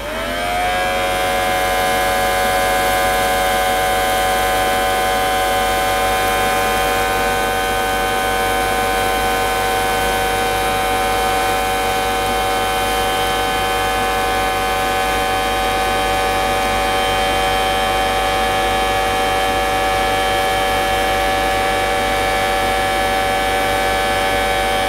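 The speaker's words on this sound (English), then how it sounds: "Let's switch on this Vileda Junior and see if we can pick it all up." A Theo Klein Vileda Junior toy vacuum cleaner runs continuously, a loud steady whirring motor with a whining tone that starts at once and holds for the whole stretch.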